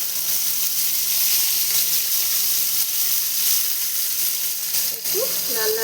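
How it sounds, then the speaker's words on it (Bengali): Bitter gourd (karela) frying in hot oil in a pan, a loud, dense, continuous crackling sizzle up close, with a brief scrape near the end. "এই তেলের মধ্যেই আমি এখন করলাটা ভেজে নেব।"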